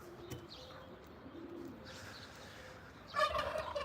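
Chickens hang around a bird feeder stocked with black oil sunflower seed, giving faint, scattered clucks and calls against a quiet outdoor background, with a louder burst of calling near the end.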